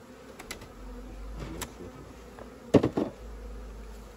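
Honey bees buzzing at a beekeeper's apiary where queen rearing is done, a steady faint hum with a few bees passing close, and a brief louder burst near the end.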